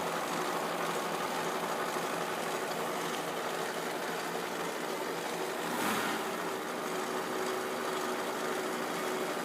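A Koenig winch drum spins, powered by a Jeep CJ2A engine, giving a continuous, even engine drone with a mechanical hum, loud and close, with one brief swell partway through.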